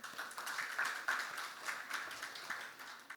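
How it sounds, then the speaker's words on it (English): Brief audience applause welcoming a guest speaker, a Grant Thornton partner, at a corporate talk on social engineering, a steady moderate wash of clapping with no talk. "Let's welcome him with a huge round of applause"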